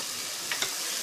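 Onion and garlic sauté in a pot, giving a steady close sizzle with a couple of brief sharper crackles, with no talk.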